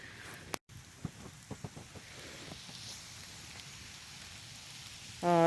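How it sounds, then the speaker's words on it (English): Light rain patters steadily on a trail in a park that was once a golf course, with scattered nearby drops and clicks over a soft constant hiss. "it's raining"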